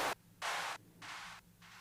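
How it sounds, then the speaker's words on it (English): A white noise sample layer from a music track plays as four hissing bursts in a stop-start rhythm, each about a third of a second long, the later ones slightly softer, with quiet gaps between. "So just some white noise basically."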